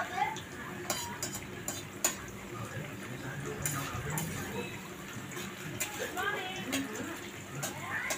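Onion and bay leaf frying in a pan, a soft continuous sizzle under clinks and scrapes of a utensil against the pan, with voices talking over it.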